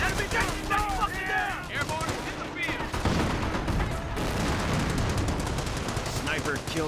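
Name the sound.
mortar strike and gunfire in the video game Company of Heroes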